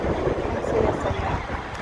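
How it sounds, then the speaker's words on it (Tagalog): Strong wind buffets the microphone at the Waterworld water park in Hong Kong, a steady rumbling roar with gusts throughout, and a voice may be faintly present beneath it. "Grabing hangin."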